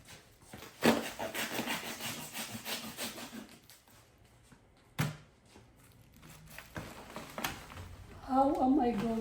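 A serrated, saw-like blade rasps back and forth through food, the rough strokes coming in uneven bursts with short pauses between them, fairly quiet and close, and a voice speaks alongside.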